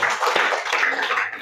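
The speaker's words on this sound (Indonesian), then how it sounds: "kasih tepuk tangan dulu buat kita semua" A classroom full of students claps together in a short burst of applause, dense and fairly loud, lasting about a second and a half.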